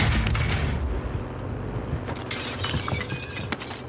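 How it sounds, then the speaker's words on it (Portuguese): Glass shatters in Call of Duty: Modern Warfare, a loud crash with a bright burst of breaking shards over a noisy low rumble of battle, followed by scattered tinkling debris. "Partiste vidro."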